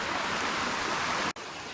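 A stream flowing beside the Placerita Canyon waterfall trail gives a steady, broad rushing hiss, close and even, briefly cut by a short dropout before resuming.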